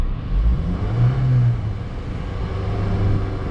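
A 2007-2016 Honda CR-V engine held at a steady 3,000 RPM during thermostat replacement work, giving a continuous close, loud engine drone and hum with slight wavering.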